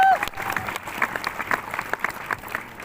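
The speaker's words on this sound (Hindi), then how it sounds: "एक बार जोरदार ताली हो जाए" An audience at a motivational speech event claps loudly in a steady burst of applause, many hands pattering together close and continuous, with a brief voice at the very start.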